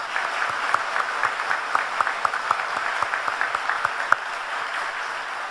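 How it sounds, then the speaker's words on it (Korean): A church congregation claps steadily for several seconds at an anniversary evening worship service, dense applause with a few sharper individual claps standing out. "감사한 마음으로 우리 박수를 드리겠습니다."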